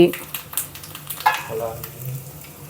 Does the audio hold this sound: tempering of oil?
yes